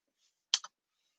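A computer keyboard or mouse being used, heard as a quick double click, close and crisp against near silence.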